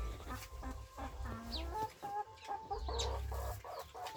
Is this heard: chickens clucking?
yes